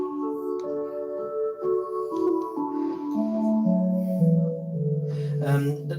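An electronic organ's four-foot flute solo stop plays a slow melody with a clear, pure flute-like tone, sustained notes stepping gradually lower, solo without voices.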